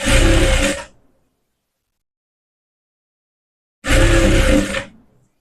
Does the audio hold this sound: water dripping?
no